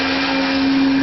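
Tormach PCNC 1100 CNC mill spindle cutting at the limit of its horsepower, a loud, steady, unbroken whine with a strong sustained tone and no pauses.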